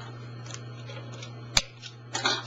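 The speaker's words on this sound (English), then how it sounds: "snip it off" Scissors snip bobbin thread beside a Consew 206RB sewing machine: a single sharp close cut, then a few faint handling clicks over a low steady hum.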